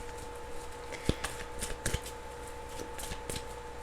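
Tarot cards shuffled by hand, giving a few soft riffling bursts and sharp taps over a quiet room hum, near and moderately loud.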